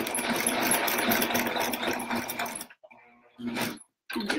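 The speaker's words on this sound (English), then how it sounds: "what you'll do is just turn around and sew back over what you just did" A sewing machine with a walking foot stitching back over a seam while making oven mitts, running in a quick buzzing whir, pausing briefly, then resuming in short bursts, close and fairly loud.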